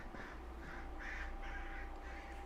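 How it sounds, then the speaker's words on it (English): A crow caws about five times in an even, repeating rhythm, faint and somewhat distant over a low steady hum, with no talk. "Crow, shut up!"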